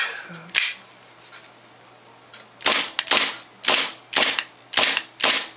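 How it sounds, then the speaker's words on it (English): WE 1911 A1 gas airsoft pistol firing with blowback, six sharp, loud, close cracks of gas and slide snap at roughly half-second intervals after an isolated first shot and a short pause. "Let's see what the kickback's like, or the blowback."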